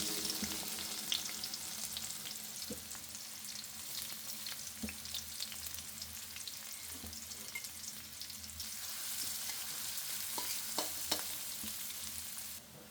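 Onions and whole spices fry in hot oil in a pan, a steady sizzle throughout with a few light clinks and scrapes scattered across it.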